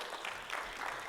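A short burst of congregation applause at a Spanish-language church service, a dense, even patter of many hands clapping at once.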